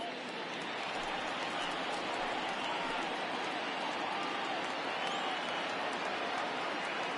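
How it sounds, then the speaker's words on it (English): A stadium crowd in the baseball game MLB The Show rises in a dense, steady roar of cheering on a full count, sustained and even throughout. "Crowd gets up for the 3-2."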